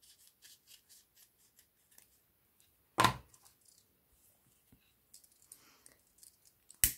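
Small scissors snip ribbon close by, a series of light rhythmic clicks and soft cuts followed by one louder sharp snap and scattered handling noises.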